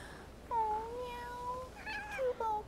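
A cat meows in a few drawn-out, wavering calls, clear and fairly close, with brief pauses between them and no talking.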